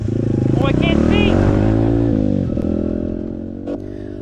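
A dirt bike engine drones loudly while riding, a steady buzzing rumble that slowly fades, with a person talking over it.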